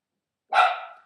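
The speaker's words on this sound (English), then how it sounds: "Stop barking." A single sharp dog bark, close and loud, that rings out briefly before fading, with silence before it.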